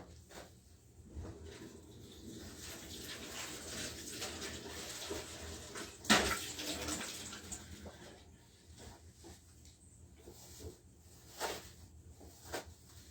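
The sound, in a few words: rinsing a baking pan with water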